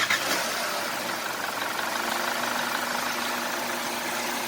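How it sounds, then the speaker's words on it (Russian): A Mercedes car engine that has been rebuilt after a full overhaul for spun bearings runs at a steady idle, producing an even, continuous mechanical hum with no talking. "Вот так работает двигатель после полной переборки."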